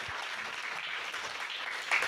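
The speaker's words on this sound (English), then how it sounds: "I'd like one more round of applause for our candidates" Debate audience at a Redding League of Women Voters 2022 state candidate event clapping for the candidates, a steady, moderately loud round of applause filling the short stretch.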